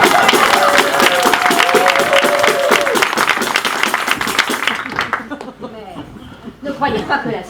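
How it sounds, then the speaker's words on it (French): Theatre audience applauding loudly with steady dense clapping and some laughter mixed in, fading after a few seconds as voices take over. "Ça mérite absolument de gigantesques applaudissements."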